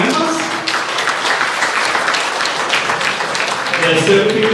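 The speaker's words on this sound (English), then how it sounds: "let's have a round of applause for all our new members" Applause from an audience at a chamber of commerce event welcoming new members, a dense, steady wash of many hands clapping throughout with voices mixed in.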